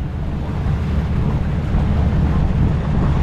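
Sea waves slapping around a fishing boat loaded with ice, a loud continuous low rush of surf and water mixed with wind buffeting the microphone, with no talking.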